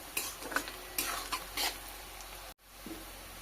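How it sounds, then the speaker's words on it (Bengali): Onions frying in a pan while being stirred, with brisk scraping strokes over a soft sizzle, then a brief cut and a quieter stretch. "পেঁয়াজটা নাড়াচাড়া করে ব্রাউন কালার করে ভেজে নিতে হবে।"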